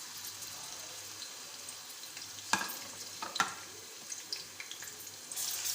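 Garlic-ginger paste and a curry leaf frying in hot oil for chicken karahi, a soft steady sizzle with a couple of sharp spatters and stirring clinks, fairly quiet and close.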